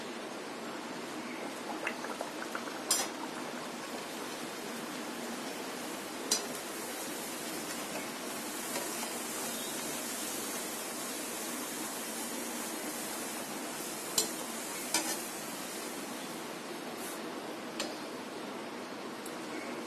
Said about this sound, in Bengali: এখন আমি পুরিগুলি তেলের মধ্যে ছেড়ে দিচ্ছি।